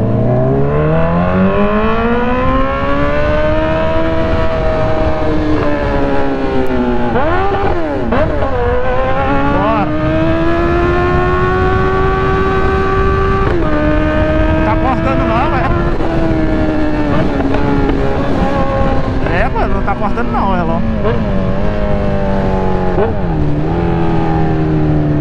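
A Honda CB1000R motorcycle engine revs hard and climbs to high revs, with several gear changes breaking the rising whine and a sustained loud roar that stays close the whole time.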